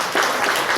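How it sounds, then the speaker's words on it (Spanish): Loud applause from an audience at a training workshop in Puerto Bermúdez, a dense, even wash of clapping that swells slightly after the start and holds steady through the short burst. "Fuerte aplauso por esta mujer."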